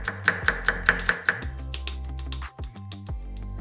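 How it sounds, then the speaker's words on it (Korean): Whole garlic cloves coarsely chopped with a knife: about six quick, evenly spaced knife taps on a board, close and crisp, over steady background music that carries on after the chopping stops. "쌈장 소스에 들어갈 통마늘 3개는 굵게 다져서"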